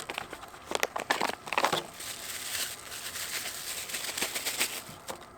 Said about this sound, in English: Let's rip this guy open here.